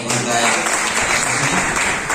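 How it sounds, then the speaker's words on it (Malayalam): Audience applause fills a Trillionaires Academy gathering, a steady, dense wash of many hands clapping throughout, with a voice speaking over part of it. "നല്ലൊരു കൈയടി കൊടുക്കുക."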